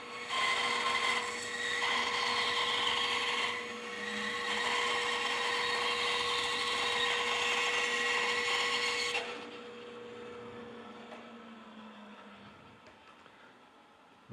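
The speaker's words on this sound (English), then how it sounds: "I'm just going to feed through the bandsaw" A bandsaw cuts the top off a wooden box, running with a steady whine while the blade rasps through the wood for several seconds, then coasts down quieter after the cut ends.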